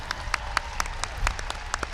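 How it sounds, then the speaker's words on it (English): Sparse, separate claps ring out from a graduation crowd in an open stadium, a thin scattering of hand claps with a low background rumble and no clear speech. "Can we please have a round of applause for the Los Altos High School Combined Orchestra and Bands"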